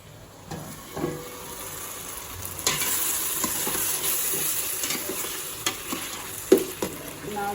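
Chopped tomatoes with salt cook in a pressure cooker for egg biryani, a steady sizzle and hiss punctuated by scraping stirs and a few clanks of a spoon and lid against the pot.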